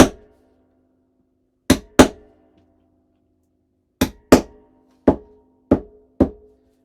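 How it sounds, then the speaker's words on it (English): Sharp metallic hammer strikes on an eyelet setter while setting an eyelet in a paper craft folio, seven distinct close hits in irregular pairs and singles with quick decay. "And just an extra hammer will take care of it."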